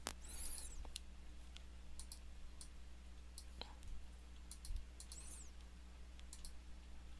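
Mouse buttons click in short, sparse, faint taps at an irregular pace while someone works in Microsoft Access, over a quiet steady hum with no talking.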